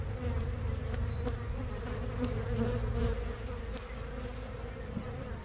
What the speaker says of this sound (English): See, I'm getting the bees pretty fired up,